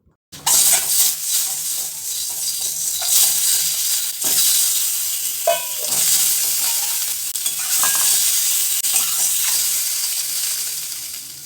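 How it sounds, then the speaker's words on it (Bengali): Eggs coated in salt and turmeric frying in oil in a kadai over a medium-low gas flame for egg kosha, a steady close sizzle and hiss with occasional stirring scrapes throughout. "এই সময় ডিমগুলোকে বেশ লাল লাল করেই ভেজে নিতে হবে"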